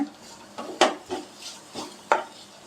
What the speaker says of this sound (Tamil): ஒரு ஒன் மினிட் வந்து நல்லா கிளறி விட்டுக்கோங்க